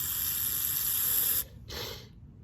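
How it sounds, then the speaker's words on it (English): Carb cleaner sprays through the holes of a Briggs and Stratton small-engine carburetor as a steady, loud, close hiss that cuts off, followed by one shorter puff. "So now we'll blow some carb spray through the holes."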